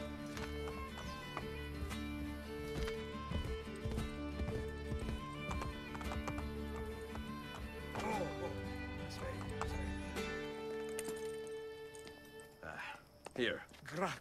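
Rhythmic hoofbeats of a galloping horse in Assassin's Creed Brotherhood over a steady background music bed, with a whinny and voices breaking in near the end.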